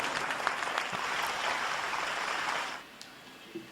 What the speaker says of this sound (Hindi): जोरदार तालियों के साथ आदरणीय गौतम रावल